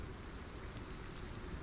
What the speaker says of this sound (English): I'm like slowly watching the rain go less and less.